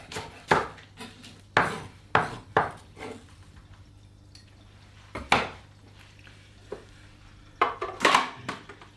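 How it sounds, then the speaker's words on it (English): A knife roughly chops spring onions on a board, sharp irregular thuds in short clusters with quiet gaps between them, close and clear with no talking. "a couple of roughly chopped spring onions"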